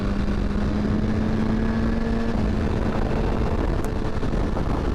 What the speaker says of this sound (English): The BMW S1000RR. It's a 2018 model.